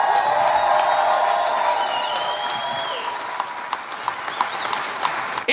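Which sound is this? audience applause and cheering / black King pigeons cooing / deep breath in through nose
audience applause and cheering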